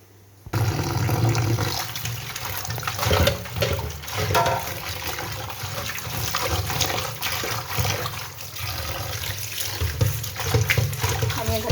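Tap water gushes steadily into a basin while ghetkol leaves are cut and washed, a loud continuous splashing flow that starts abruptly after a brief quiet moment and keeps running with small shifts in splash.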